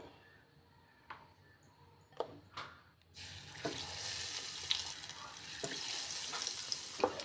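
Potato bajji added to hot oil after onion bajji, a soft steady frying hiss building up and filling the clip, with a few clinks and splashes near the start.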